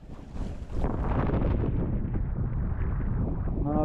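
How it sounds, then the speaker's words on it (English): A strong wind gust roars across a sailboat on a winter sea off Norway, building quickly from a lighter rush into a loud, sustained blast of wind noise on the microphone. "Big gust, not good."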